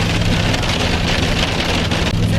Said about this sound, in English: Ah, it is hail.